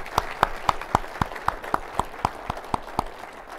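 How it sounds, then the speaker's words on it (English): A single steady run of about a dozen evenly spaced claps at a state of the city presentation in Eagan, honoring city road crews. The claps are crisp, close and isolated, with no talking. "Let's give them a round of applause on a tough month."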